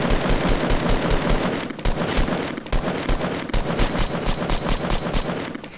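Continuous rapid-fire gunfire in the Fortnite Mobile video game: dense, close, loud automatic shots stream almost nonstop, with a couple of very short breaks between bursts.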